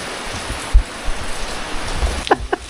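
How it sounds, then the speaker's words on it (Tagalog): Heavy rain falls as a steady broadband hiss, with a few low thumps and faint clicks scattered through it, no voices. "Lakas ng ulan"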